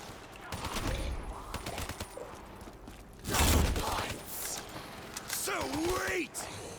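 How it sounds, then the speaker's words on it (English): Rapid automated gunfire from a video game auto turret, a dense burst of shots layered with game effects and mechanical clatter, with a louder blast midway and a brief tonal sweep near the end. "Auto turret."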